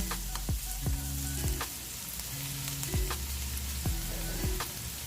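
Chopped garlic fries in oil until lightly browned, sizzling steadily up close while a utensil stirs it with periodic scraping strokes; nobody speaks.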